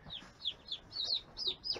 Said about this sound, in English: Here's the Rhode Island Red.